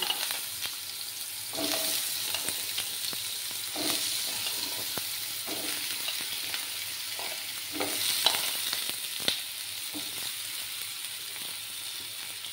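Thin slices of papaya and potato sizzle steadily in a hot pan for a Bengali papaya-potato fish curry, a continuous bright crackle with occasional stirring scrapes and bursts, close and fairly loud with no talking.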